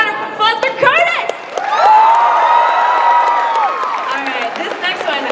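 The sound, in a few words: convention audience applause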